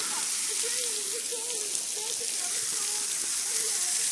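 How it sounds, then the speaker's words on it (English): Steady rain falls at a waterfall in Petit Jean State Park, a constant dense hiss of drops and rushing water filling the whole clip, with a voice faintly heard over it. "It's raining."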